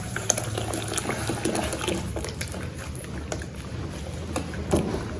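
Water boils in a pot for sorghum kali (chola kali), a steady low bubbling and simmering hiss that carries on without pause, close and moderately quiet.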